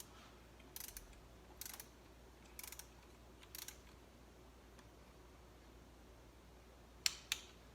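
A ratchet works on the valve cover bolts of a 1997 Saturn SC2 coupe in short, faint bursts of clicking spread across the stretch, followed by two sharper metallic clacks near the end, all in an otherwise quiet garage.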